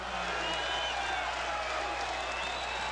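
A basketball arena crowd at a college game between ECU and Richmond roars and applauds after a shot, a steady dense wash of cheering and clapping throughout without a break.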